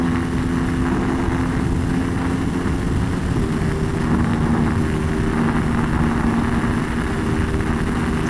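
Aprilia RS660 motorcycle engine held at high revs on an open mountain road, a steady loud drone with strong wind rush and no let-up throughout.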